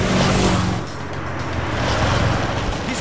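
A car pulls away, its low engine rumble loud at first, easing off, then building again as it drives off, with broadband road noise throughout.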